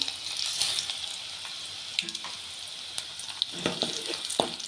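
Cumin, mustard seeds, garlic and chana and urad dal frying in hot oil for a brinjal gongura chutney, a steady close sizzle with scattered crackles and pops, the clatter of a spoon stirring now and then, no voices.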